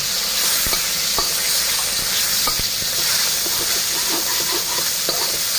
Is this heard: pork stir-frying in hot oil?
yes